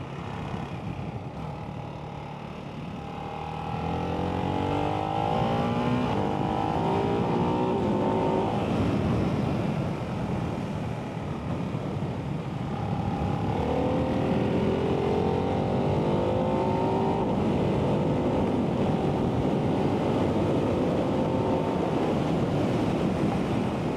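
A 2024 Ducati Hypermotard 698 Mono RVE single-cylinder engine revs hard in two rising pulls, pitch climbing through gears over strong wind roar, loud and close.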